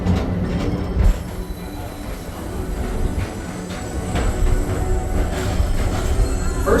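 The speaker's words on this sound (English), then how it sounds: "your express train keeps on rolling through the future" A Disney Peoplemover ride train rolls steadily along its track with rumbling wheels, occasional clicks and faint squeals, continuous and fairly close.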